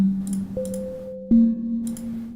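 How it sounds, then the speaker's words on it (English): A bottle played as a musical instrument, giving steady sustained tones that step to a higher pitch, then drop back, with light clicking bursts in between, heard close and alone. "I'm playing a bottle."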